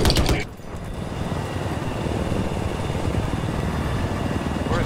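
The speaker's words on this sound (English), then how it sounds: "hostile helicopter." A video game helicopter's rotor chops steadily and loudly in a dense, continuous engine roar that fills the whole stretch, with no talk, in Battlefield 4.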